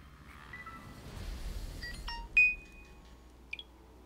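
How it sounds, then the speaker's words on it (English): A phone gives a few short electronic beeps and chirps, faint and close, over quiet background hiss. "All right, phone, I hear you."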